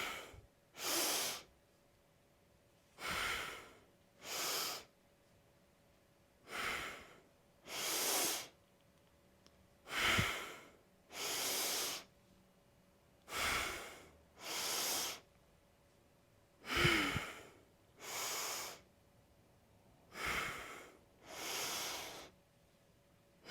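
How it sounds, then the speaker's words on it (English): Deep, slow breaths during a hatha yoga class, drawn in and pushed out in a steady rhythm of about a dozen full, airy breaths separated by short holds of quiet, close and moderately loud with no talking. "let's do 10 deep breaths with a 2-second hold at the top"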